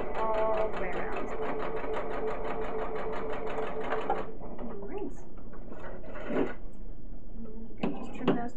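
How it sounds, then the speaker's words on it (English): A sewing machine stitches a casing around fabric, a fast steady mechanical whir for about four seconds, then stops, followed by brief handling clatter and a short restart near the end. "And I'm going to sew all the way around."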